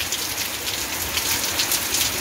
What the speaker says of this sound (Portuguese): A chuva volta a cair na zona da mata de Alagoas.